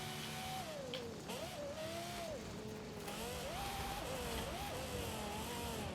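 Car engine in Forza Horizon 5, an off-road Baja build, revving up and down continuously with rising and falling pitch sweeps, loud and close, with faint tire noise throughout and no talking.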